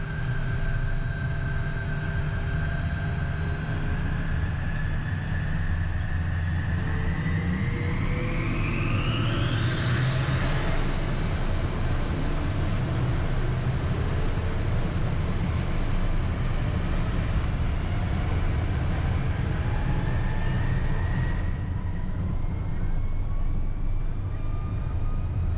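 Private jet engines roar steadily through the takeoff roll and climb, a loud continuous turbine whine rising sharply in pitch partway through and then holding high, over a constant low rumble with no talk.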